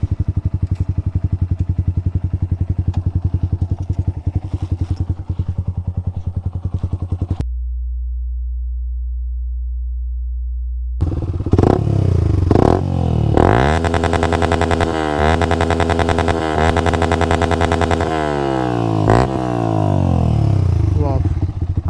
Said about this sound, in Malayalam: നമുക്കെന്തായാലും ഇവിടെ ഒന്ന് ഒതുക്കിയിട്ടേ ബൈക്കിൻ്റെ ഫുൾ ത്രോട്ടിലൊന്ന് കൊടുത്തു നോക്കാം.